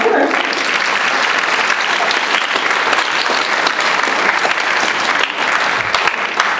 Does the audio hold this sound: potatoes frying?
no